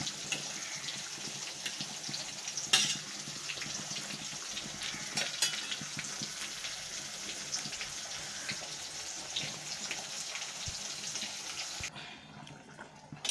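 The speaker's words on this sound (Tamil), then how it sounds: "சாலை மீன் பொரிச்சிட்ருக்கேன்" Chaalai sardines fry in a pan with a steady close sizzle and scattered crackles and pops, running continuously and cutting off abruptly near the end.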